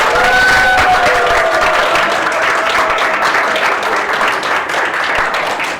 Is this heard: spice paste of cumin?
no